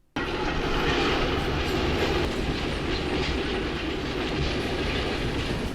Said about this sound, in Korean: 그때 둘 사이로 다가오는 기차